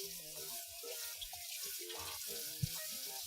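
Water runs steadily from a faucet as something is rinsed under it, a close, continuous splashing rush with one small knock near the end.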